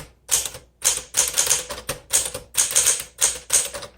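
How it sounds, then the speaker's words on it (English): Keys of a 1964 Smith Corona Sterling manual typewriter strike in quick bursts of crisp clacks, separated by short pauses, close and clear with no talk. "let's go ahead and do our typing."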